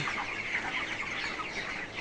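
A flock of broiler chickens clucks continuously in a poultry shed, a dense, steady chorus of close, overlapping calls with no talking.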